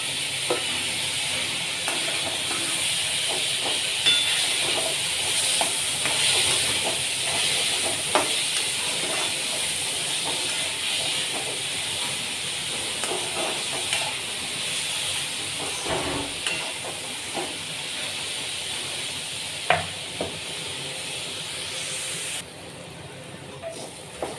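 Onion and tomato fry in a pan for a masala bitter gourd dish, a steady soft sizzle and hiss with occasional stirring scrapes throughout.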